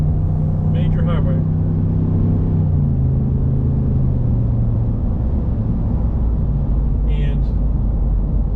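Ford F250 with the 7.3 Godzilla V8 and an MBRP 4 inch exhaust cruising on a highway, a loud, deep, continuous exhaust drone and rumble heard from inside the cab, with a brief voice over it.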